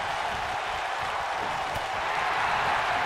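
A video game arena crowd cheers and claps throughout a WWE 2K19 multi-man wrestling match, a dense, steady roar of applause and noise with no clear voices rising above it.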